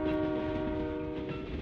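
Steady rumble of a moving train in the West of Loathing video game, with sustained tonal hum and constant low rolling noise throughout, no voices.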